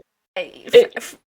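A single sharp sneeze bursts out during a relaxed interview chat, preceded by a brief intake of breath and followed by a short trailing exhale, close and fairly loud.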